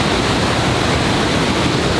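A large volume of Rogue River water rushes through a narrow rocky gorge in Oregon, a dense, constant, full roar heard close and steady with no pauses or voices.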